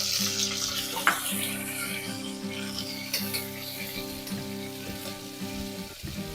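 Chopped onion goes into a pan of hot oil with ginger-garlic paste and a pinch of asafoetida over a low gas flame, giving a steady, moderate sizzle with faint clinks and a continuous background hum.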